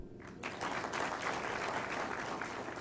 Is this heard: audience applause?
yes